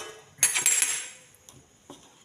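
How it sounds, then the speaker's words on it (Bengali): A spoon clatters and scrapes against a bowl as pithe batter for patishapta is mixed with milk, with a loud burst of stirring followed by a few fainter knocks. "সেই জন্য আমি দুধ দিয়ে ভালো করে মিশিয়ে নেব।"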